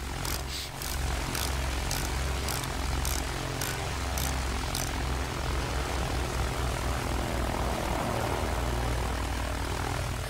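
Propeller plane engine in the Battlefield 1 video game, a loud continuous droning roar close by, with a short run of rhythmic clicking ticks in the first half and no speech.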